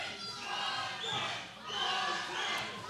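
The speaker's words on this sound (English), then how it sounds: "Now we've got the crowd chanting behind Martin." A wrestling crowd chants in two rhythmic, swelling waves for a wrestler named Martin, its voices echoing through the arena.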